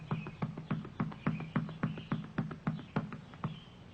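Steady rhythmic drum beats, heard as a distant war-drum pattern in an old western setting. The evenly spaced thumps come about three per second, moderately faint, with no voices over them.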